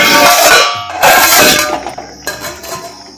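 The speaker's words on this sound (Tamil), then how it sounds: "மூடி போட்டுக்கோம்" Metal clatter of a lid set onto a pot of cooking moong dal with onion, tomato, green chilli and turmeric, a few loud clanks and rattles settling down, close and without talk.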